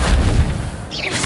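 Casting of the Incendio fire spell from Harry Potter: a loud, roaring burst with a heavy low rumble and a crackling, flaring whoosh that fades slightly, then a brief bright flicker near the end.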